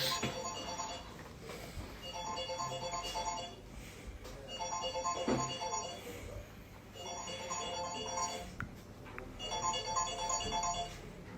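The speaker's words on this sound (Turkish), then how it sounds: "Aa telefonun çalıyor." A mobile phone ringtone plays in a home, a repeating electronic melody in regular bursts about every two seconds, moderately loud, with some faint voices in the background.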